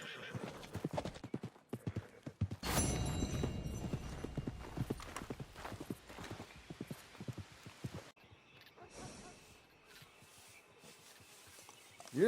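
A horse's hooves clip-clop steadily on the ground in Red Dead Redemption 2, with a whinny partway through, staying close and fairly loud before fading toward the end.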